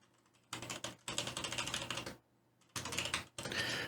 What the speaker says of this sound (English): once I finish typing it out